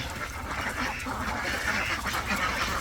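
Ducks on a confined duck farm in Bangladesh quack in a dense, continuous chorus of overlapping calls, close and steady for the whole stretch, with no voices.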